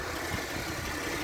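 A 2002 Pontiac Grand Am GT1 with a 3.4 liter V6 and Ram Air idles in a steady, even hum heard close up with the hood open, a brief moment without voices.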